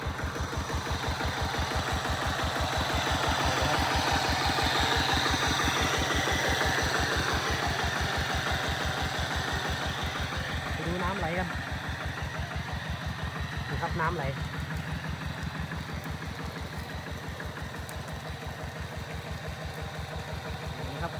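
A 10-horsepower engine drives a 3-inch shaft water pump, giving a loud, close, rapid and even thumping beat that continues unbroken, with someone speaking over it at times.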